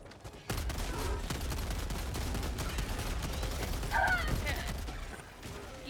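Continuous rapid gunfire rattles through a Helldivers firefight, dense automatic shots sustained across the whole stretch with a louder burst near the end, while players talk over it.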